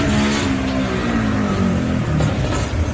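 Gardner race car at the Loveday 400 with an exhaust problem, a loud, rough engine drone close by, revving and shifting pitch unevenly over a few seconds.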